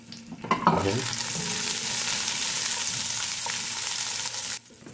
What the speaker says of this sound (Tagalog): first I'm going to saute this ginger until fragrance will come out, then followed by crushed garlic